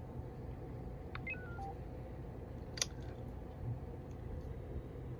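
Phone app producing short dialing tones while trying to connect to an amateur radio repeater, a few faint beeps and clicks over a low background hum.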